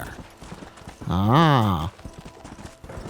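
A horse in the PS3 game Red Dead Redemption clops its hooves, and a loud, drawn-out whinny rises and falls in the middle. Someone talks over it.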